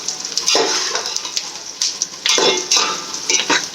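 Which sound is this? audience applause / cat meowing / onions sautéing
onions sautéing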